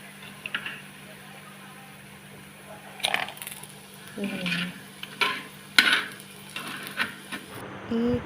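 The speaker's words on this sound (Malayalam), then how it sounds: "ഈ ഫ്രൈ ചെയ്തെടുത്ത എണ്ണയിലേക്ക് തന്നെ ഈ ഉള്ളി, ഇഞ്ചി, വെളുത്തുള്ളി, പച്ചമുളക്, കറിവേപ്പില, മല്ലിച്ചപ്പെല്ലാം ഇട്ട് നല്ലവണ്ണം വഴറ്റുക." Onion, ginger, garlic, green chillies and curry leaves are stirred in oil that was just used for frying. A spoon clinks and scrapes against the pan in scattered taps, and a voice speaks faintly in the background.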